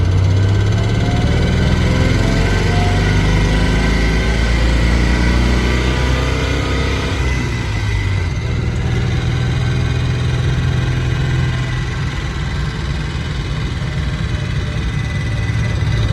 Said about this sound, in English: Here we go, engage the centrifugal clutch.